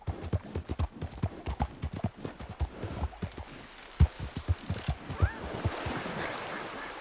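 Horse hooves clip-clop in a steady, rhythmic trot in Red Dead Redemption 2, each hoofbeat sharp and close, with water-like wash building toward the end as the horse moves into a river.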